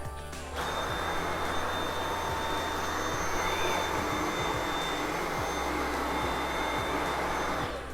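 A Dyson V7 Animal cordless stick vacuum runs on carpet at its high setting, starting abruptly and holding a loud, steady whining motor drone close by, with faint thumps of the head moving.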